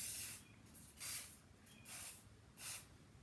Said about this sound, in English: So we're going to spray our foreheads.